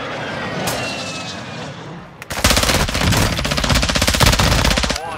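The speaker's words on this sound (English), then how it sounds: "You are taking effective fire." Machine gun fire in the Call of Duty DMZ video game, a loud, sustained rapid burst that breaks in after a couple of seconds of quieter background and runs steadily to the end, with no talk.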